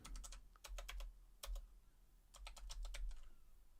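Keys clatter in quick bursts on a computer keyboard while a word is typed into a file search, a few short runs of clicks separated by brief pauses, close and fairly clear with no talking.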